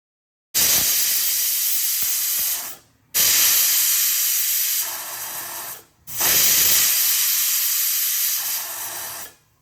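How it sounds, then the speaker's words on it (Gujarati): A pressure cooker holding toor dal, chopped tomato, water and peanuts lets out steam in three loud hissing bursts, each lasting about two seconds and separated by short silences. "પ્રેશર કુકરમાં 1 કપ તુવેરની દાળ ઉમેરી સાથે 1 કટ કરેલું ટામેટું, 2 કપ પાણી અને 1/4 કપ સિંગદાણાને આ રીતે પ્રેશર કુકરમાં ઉમેરી દઈશું અને કુકરમાં 3 વિસલ કરી લઈશું"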